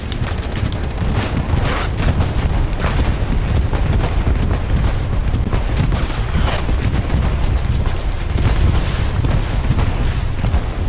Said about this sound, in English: the bombing run took out our OP and garrison within the point